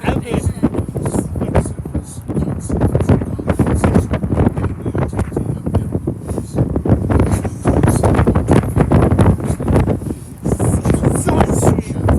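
Loud, gusting wind roars steadily across the open upper deck of a Bournemouth sightseeing bus, constant buffeting noise with faint speech underneath.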